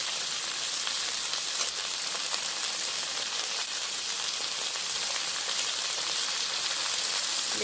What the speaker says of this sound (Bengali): সব মশলার সাথে সাথে এখন আমরা চিকেনটাকে ভালো করে এপাশ ওপাশ করে নেড়ে চেড়ে ভেজে নিচ্ছি